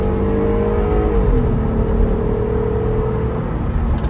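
A heavy Jeep Wrangler with a 285-horsepower engine accelerates, its steady engine drone rising and holding in a loud, continuous whir close by, with no voices over it.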